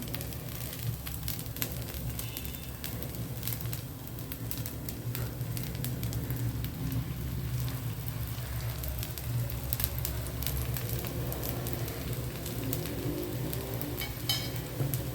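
Bottle gourd adai batter fries in oil on a pan, a faint, continuous low sizzle and crackle running steadily throughout, with no talking.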